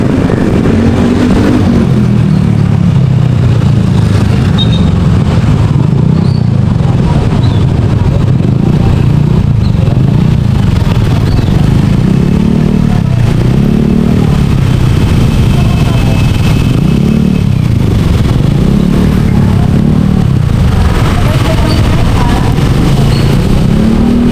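A motorcycle engine, one prone to stalling when started, runs loud and close, its low drone swelling and dipping in a slow repeating wave throughout, with people talking over it.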